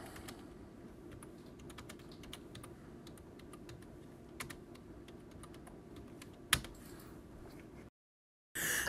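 Computer keyboard typing in a steady stream of soft, quick clicks at close range, with one sharper tap near the end and a short silence just before the close.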